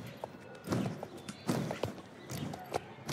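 A horse canters around an arena, its hooves thudding in an irregular three-beat rhythm at close range, quiet and soft over a faint background.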